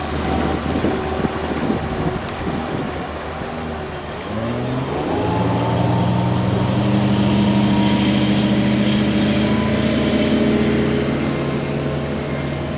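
A four-stroke outboard motor on a 2004 Robalo 230 boat hums steadily and rises in pitch as it throttles up, then holds a smooth drone over wind and water noise, with no voices.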